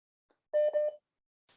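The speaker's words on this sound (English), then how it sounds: "For some reason, I'm getting beeps over here" Short electronic tone beeps on a phone line, a quick cluster of three steady pitched bleeps lasting about half a second in near silence, followed by a faint hiss.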